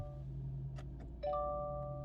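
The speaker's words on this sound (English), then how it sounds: "And an interesting chime." A Subaru Forester's interior chime sounds after push-button start: a couple of soft clicks, then a clear sustained electronic tone rings out steadily over a low cabin hum.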